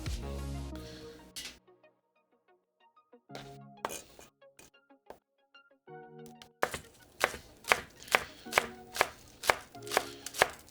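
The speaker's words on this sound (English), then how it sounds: "The rest of our green onions." Green onions chopped on a cutting board with a knife, a steady run of about ten sharp, evenly spaced chops after a few scattered clinks and handling sounds, close and fairly loud with no talking.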